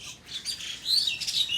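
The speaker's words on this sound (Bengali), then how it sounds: "কি সুন্দর পাখি ডাকছে," Several small birds chirp and tweet on a cold winter dawn in a rural garden with flowering plants, bright overlapping calls fairly close, continuous through the moment with no talking.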